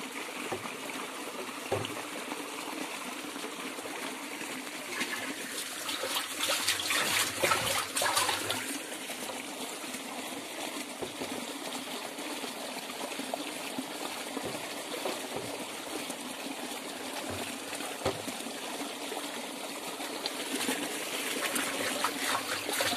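Water runs and trickles steadily for about 23 seconds while 100 litres is readied for mixing Agri 82 for a sugarcane crop. The flow is moderately faint, with a few louder splashy bursts and no talking.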